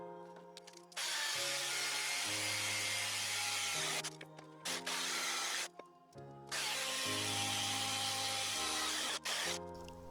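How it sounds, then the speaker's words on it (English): A power drill bores a hole through an iron ladder step, loud steady whirring in long runs broken by short pauses, with the motor pitch shifting as the bit bites into the metal. "I center punched and drilled a hole 1/2 inch from the end of each step."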